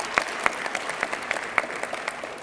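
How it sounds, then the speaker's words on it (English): A sparse round of applause for quizmaster Fritz Coleman at a scholastic bowl competition: a small audience clapping in a loose, uneven rhythm, fairly quiet and steady, with no talk over it. "give Fritz Coleman one more big round of applause"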